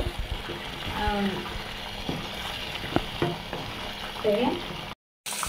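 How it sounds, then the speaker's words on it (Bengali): Mutton head curry with tomato and released meat juices being stirred in a pan, scraping and clinking over a steady sizzle, with a brief dropout near the end. "তো আমি এগুলোকে একটু নাড়াচাড়া করে দিলাম"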